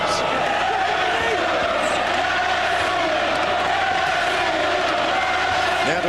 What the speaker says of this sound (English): Prince Naseem delighting his fans in the crowd through the first 3 rounds with some vintage Naseem moves.